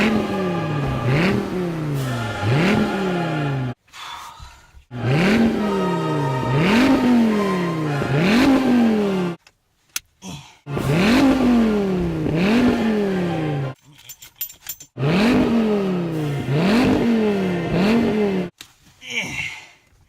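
A Dodge Viper ACR's 8.4-litre naturally aspirated V10 revs hard in four repeated bursts, each climbing sharply and falling back, with short silent gaps between them, loud and close.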